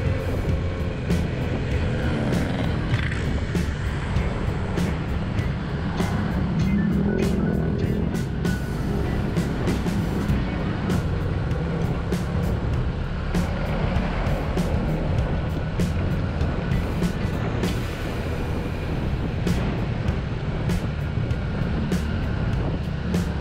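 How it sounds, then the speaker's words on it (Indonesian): Holiday traffic of cars and motorcycles queues on a busy road: a steady, dense rumble of engines passing nearby, with recurring sharp clicks and knocks over the continuous drone. "Ini antrian para pemudik baik mobil maupun sepeda motor."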